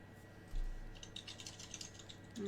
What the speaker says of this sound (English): I hear myself typing.